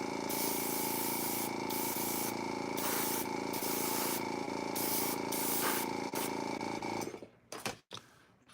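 Airbrush hissing steadily as it sprays paint onto toy pieces, a loud continuous spray with short bursts and pauses, ending in a few brief sputters as the paint cup runs empty.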